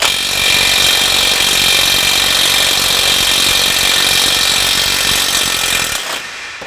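A power tool with a short socket works the stabilizer link on a 2004 Jeep Wrangler, a loud, steady hammering rattle buzzing close and continuous for several seconds before cutting off.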